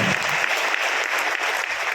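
Audience applause at a poetry recital, a dense, steady burst of many hands clapping at full strength throughout, close and even.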